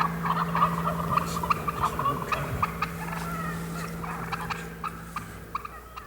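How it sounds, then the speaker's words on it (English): Wild turkey gobblers gobble and cluck repeatedly in answer to hen calls, a busy chorus of fowl calls at moderate distance over a steady outdoor hum. "making the calls of the hens, and gobblers talk back"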